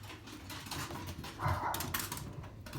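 A faint dog gives a short whimpering yip amid background rustling, distant and low in level.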